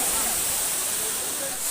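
A waterfall roars in a steady, dense hiss close by, with a voice talking over the rushing water.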